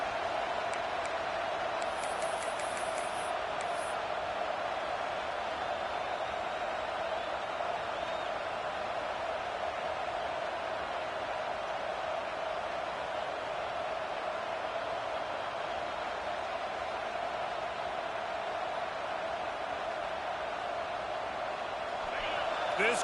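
Steady roar of a college football stadium crowd at a Texas A&M game, a dense continuous wash of noise that holds at an even loud level throughout, with a faint whistle-like tone near the start.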